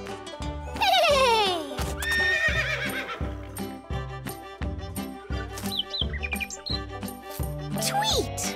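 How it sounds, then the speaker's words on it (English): A cartoon horse from an animated read-aloud children's storybook whinnies loudly with a falling, wavering cry over bouncy, rhythmic background music. "Can you neigh like a horse?"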